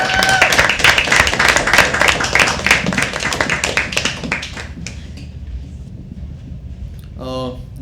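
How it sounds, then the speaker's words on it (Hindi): Audience applause at a live poetry open mic at The Habitat, dense crowd clapping for several seconds that thins out and fades, followed by a brief voice at the end. "तालियां तालियां तालियां एक बार."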